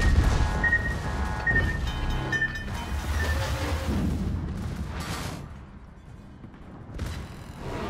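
Secondary guns firing aboard the Italian battleship Sicilia in World of Warships, a steady barrage of booming gunfire and crashing impacts with a few whistling tones, dense at first and thinning out before a final burst.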